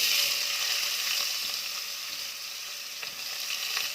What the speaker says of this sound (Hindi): ये हमने 3 बारीक लंबे कटे हुए प्याज लिए हैं, ये डालेंगे